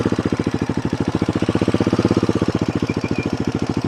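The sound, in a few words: motorcycle engine rolling in first gear, clutch released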